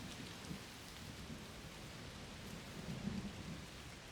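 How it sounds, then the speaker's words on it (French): Heavy rain from a thunderstorm in the video game A Plague Tale Requiem makes a dense, steady hiss, with low thunder rumbles swelling near the start and again toward the end, heard alone at a fairly low level. "Il pleut très fort. Oui, un orage de chaleur sûrement."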